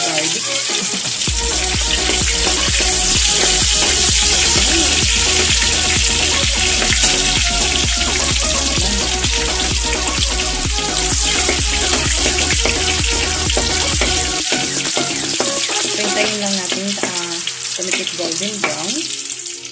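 Garlic fries in oil with a loud, dense crackling sizzle that runs continuously, mixed with a steady low hum, and no voices over it.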